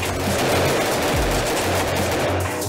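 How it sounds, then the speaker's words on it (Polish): Single shots from a long gun in a special-forces training drill, fired in quick succession at three targets, loud and sharp cracks running together through the whole stretch. "Do pierwszego celu oddajemy jeden strzał, do drugiego dwa strzały, do trzeciego trzy strzały"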